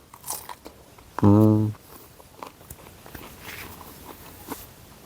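A single loud, crisp bite into a crunchy Carena nectarine, a short burst of crunching up close, followed by soft chewing.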